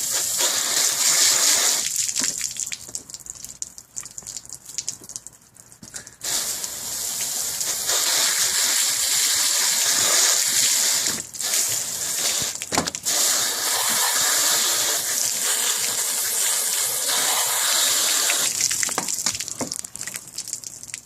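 A garden hose spraying water over a salmon to rinse off its slime layer, a loud steady gush with shifting splashy hiss as the stream moves, briefly interrupted, close and without talking.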